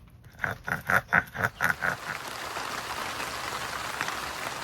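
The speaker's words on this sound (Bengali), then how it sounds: "বাইরে কিন্তু ফোঁটা ফোঁটা বৃষ্টি শুরু হয়েছে আবার" Light rain falls outside in a soft, steady patter. It follows a short run of rhythmic, scraping kitchen strokes near at hand, with no talking.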